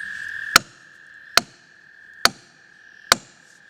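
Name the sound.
driving a felling wedge into saw kerf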